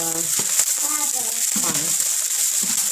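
Fried rice with beef being stirred in a small wok, a close steady hiss and sizzle under a person talking.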